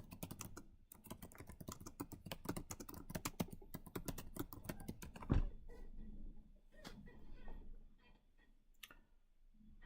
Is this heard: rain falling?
no